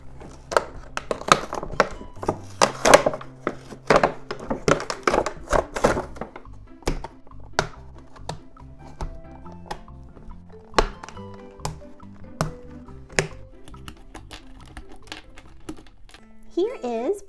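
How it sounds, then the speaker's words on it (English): A Disney Frozen 2 Anna fashion doll being taken out of its box: close, irregular clicks, thunks and crinkles of plastic and cardboard, busy at first and then sparser taps, with no talking. "Now let's take Princess Anna out of the box and take a closer look."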